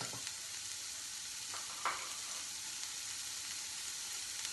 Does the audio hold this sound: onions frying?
yes